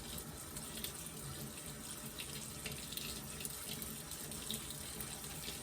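Room-temperature tap water runs steadily from a faucet into a kitchen sink while shellie beans are prepared for pressure canning, a faint, even hiss with no voices.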